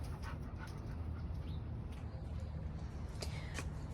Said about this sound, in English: the garden dog